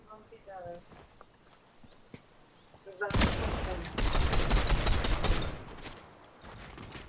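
Gunfire in a shooter video game: after quieter footsteps and small clicks, a loud, dense burst of rapid automatic fire erupts and continues for several seconds before easing off.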